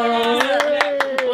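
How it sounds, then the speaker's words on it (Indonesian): A few hands clap in a steady rhythm, about five claps a second, under a sustained voice at an office presentation day. "Wow, tepuk tangan."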